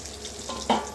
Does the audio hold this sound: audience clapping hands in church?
no